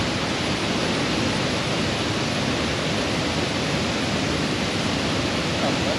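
Water at Thommankuthu waterfall in Thodupuzha, Kerala rushes in a steady, loud, dense roar that fills the whole span with no breaks, close and unbroken.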